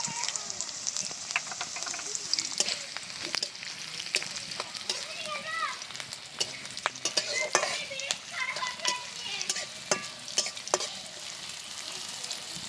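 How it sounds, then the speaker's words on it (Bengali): Close, steady sizzle of garlic and nigella seeds frying, with frequent scraping and tapping as a spatula stirs the pan, crackles and pops rising and falling throughout. "রসুনটা একটু নেড়ে চেড়ে তারপরে খানিকটা কালো জিরে দিয়ে দিচ্ছি"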